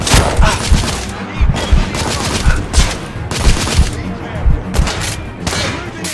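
Rapid gunfire in the Victorian-era shooter video game The Order 1886, with dense bursts of shots and thuds repeating throughout, loud and continuous, with some talk underneath.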